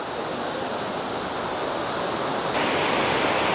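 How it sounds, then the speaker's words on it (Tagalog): Shirahige Waterfall near Sapporo, by a mountain still patched with snow, pours in a dense, steady broadband roar that fills the scene with no pauses and grows slightly louder near the end. "So ito yung Shirahigi Waterfalls."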